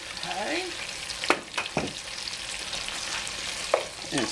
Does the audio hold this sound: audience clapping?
no